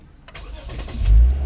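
A car engine is started with a newly installed push-to-start button: a brief starter whir cranks, then the engine catches and rises into a loud low rumble settling toward idle, close by with no talk.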